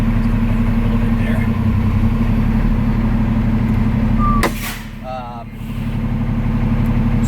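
Kenworth straight truck idling with a steady low engine rumble that dips briefly near the end, accompanied by a short burst of air or mechanical noise. A voice talks over the running engine.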